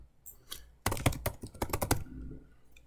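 Quick burst of keystrokes on a computer keyboard while coding Rust, a close, fast cluster of crisp clicks after a couple of faint taps, then quiet.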